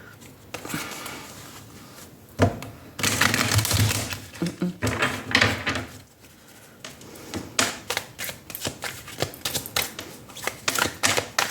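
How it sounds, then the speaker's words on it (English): A deck of Modern Witch Tarot cards being shuffled by hand, with dense riffling bursts and sharp card snaps in irregular runs, close and fairly loud, with a brief pause in the middle. "now we're going to take the Modern Witch Tarot and we're going to shuffle the cards"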